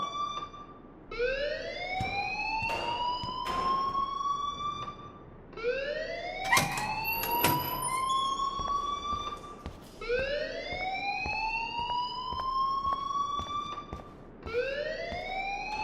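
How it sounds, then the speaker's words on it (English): An alarm rings inside the video game Life is Strange: a loud siren sweeping upward in repeated whoops, each rise lasting about four seconds, with rich harmonics and some brief clatter mixed in, no talking. "please turn off that alarm since that's your job"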